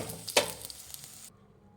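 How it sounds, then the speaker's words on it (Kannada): Spices frying in a pan for mutton paya leg soup: a short burst of sizzle with one brighter spatter, then the sizzling fades out abruptly, leaving quiet. "ಇನ್ನೊಂದು ಸ್ವಲ್ಪ ಫ್ರೈ ಮಾಡಬೇಕು"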